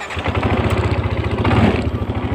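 A Yamaha NMAX scooter engine runs at a steady idle, a close, low, even putter holding constant for a couple of seconds with no talk over it.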